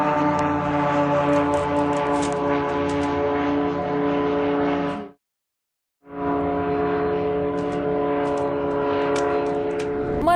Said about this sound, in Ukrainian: На відео звук БПЛА, що пролітають у Дмитрівському районі